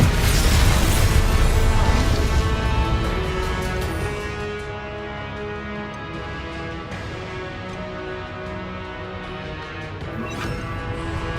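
Confringo spell blasts in Hogwarts Legacy burst out as a loud, dense boom at the start, then settle into a sustained rumbling, ringing tail with layered game music-like tones.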